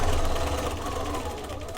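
A sewing machine stitches a zipper pouch in a rapid, even mechanical chatter, steady and close for a couple of seconds.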